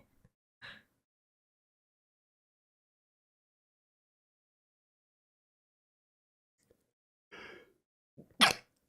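A person sneezes repeatedly: one short burst near the start, then a long quiet gap before two more close together at the end, the last loudest.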